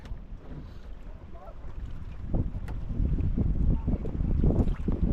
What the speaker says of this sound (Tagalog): May bangka mga kailolo, may bangka.